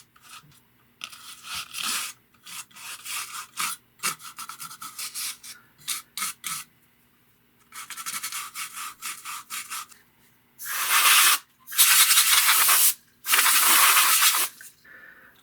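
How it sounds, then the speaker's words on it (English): A soft toothbrush scrapes dust off a vintage GE AM/FM/cassette alarm clock in repeated short bursts of close, gritty brushing, separated by pauses, with the final strokes longer and louder. "So I'm just going to take kind of a soft toothbrush, see if I could just scrape some of this dust away here, just very gently."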